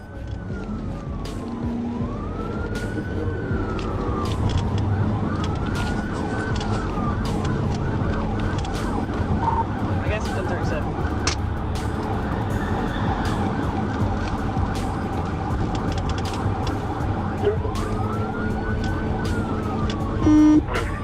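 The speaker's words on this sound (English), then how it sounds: "When the trooper activated his lights and siren" A wailing police siren from a trooper's car sweeps up and down repeatedly over steady highway traffic and engine noise, with a few sharp clicks scattered throughout.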